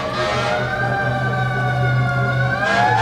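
An ambulance siren wails nearby at an outdoor rally in Veterans Memorial Park in Columbia, South Carolina, its loud tone sweeping up and down over a steady low engine rumble.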